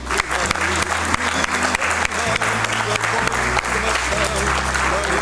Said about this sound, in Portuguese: Sofia Gomes Paiva, Margarida Silva Leal, para quem eu peço o vosso aplauso